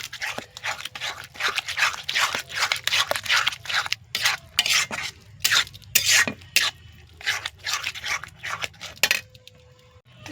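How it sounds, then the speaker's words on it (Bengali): Banana stem stirred with spice paste in a pan, a repeated scraping rhythm of spoon against metal in short bursts, close and fairly loud, with brief pauses between strokes. "আর দিয়ে দেব সমস্ত মশলা পেস্ট করেছিল যেটা, এভাবে দিয়ে অনবরত নাড়তে থাকবো।"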